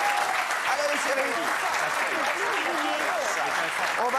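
A studio audience on a French TV talk show gives sustained applause, steady and dense for the whole stretch, with cheers and voices mixed into the clapping.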